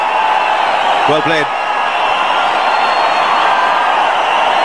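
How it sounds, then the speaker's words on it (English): A cricket stadium crowd at Chinnaswami Stadium in Bengaluru cheers a century during a 2013 India vs Australia one-day international. The roar is a steady, loud wash of noise that runs under someone commentator's brief talk. "the crowd's going absolutely bozo here"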